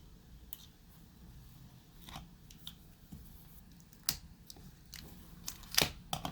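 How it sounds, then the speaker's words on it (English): Scissors snipping close by as they open a sealed Wii U game case, a few sharp metallic clicks and cuts scattered over a quiet background hiss, with no one speaking. "All right, so I got my scissors here, and yeah, let's open this up."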